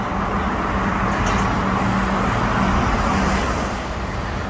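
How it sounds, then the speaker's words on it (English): A lorry rolls past on a road in Hull, a steady close engine rumble with a low droning hum that holds loud and even throughout. "Lorry's coming down there."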